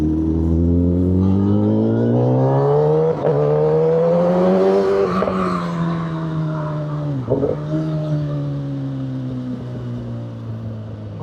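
A Mitsubishi car with a 1000cc engine revs up through its exhaust, the pitch rising sharply, with brief crackling pops at each shift, loud and close with no talk.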